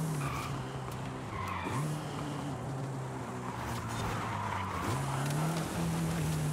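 Race car in the Forza Horizon game sliding through a corner, a steady low engine drone with a turbo, under a long tire skid whose pitch dips and then climbs again near the end.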